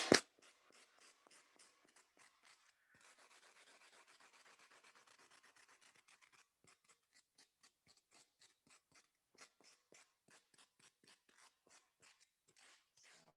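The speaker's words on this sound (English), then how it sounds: "you're going to take your little pretend sanding block, which is just a scrap piece of foam that you just cut off" Scrap foam block rubbed against craft foam to shape it, a quiet, close scratchy rasping in a steady run of short strokes, with no talking.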